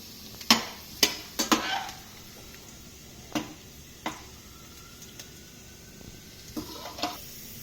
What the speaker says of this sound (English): we can just stir it slightly